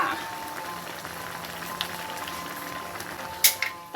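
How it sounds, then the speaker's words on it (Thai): Southern Thai sour curry broth with tilapia and pickled bamboo shoots bubbles at a steady boil in a pot, a soft continuous hiss with faint pops and a couple of brief clinks near the end. "น้ำแกงเดือดแล้วใส่ปลานิลลงไปค่ะ"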